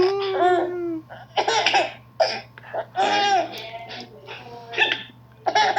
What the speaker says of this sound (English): I saw that hiccup.